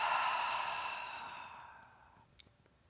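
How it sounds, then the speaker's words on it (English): A long, soft breath exhaled out through the mouth, fading gradually over a couple of seconds during a calm breathing exercise. "Exhale out of your mouth."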